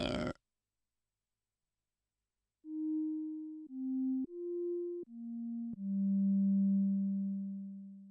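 A Behringer JT Mini synthesizer plays a short run of clean, pure tones with light reverb, four brief notes stepping up and down before a longer low note rings out and sustains, after a short silence.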